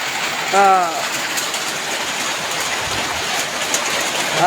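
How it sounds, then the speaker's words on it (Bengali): Steady rain falls outdoors, giving a constant, even hiss that fills the whole stretch. A brief voice-like sound rises over it near the start. "কিন্তু বৃষ্টি শুরু হয়ে গেছে।"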